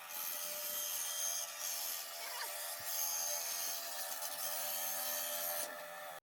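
A saw cuts through a piece of warped wood, producing a continuous close rasping, rubbing grind with brief changes in pitch and pressure, no voices present.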